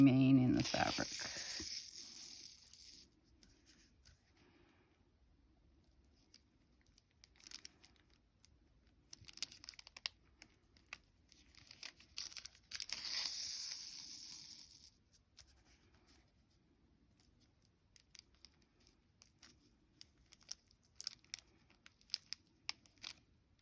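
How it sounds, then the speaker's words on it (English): Stabilizer paper tears away from embroidered fabric in close, crisp ripping bursts, loudest at the start and again around the middle, with quieter scattered rustles between. "when you tear the paper away later,"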